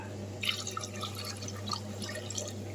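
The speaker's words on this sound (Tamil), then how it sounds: "ஒரு குக்கரில் இதே கப்பில் நாலு கப்பு தண்ணி ஊற்றிக்கலாம்" Water poured from a cup into a pressure cooker while making rice murukku: a close, continuous trickling splash with bright dripping over a low steady hum, with no voices.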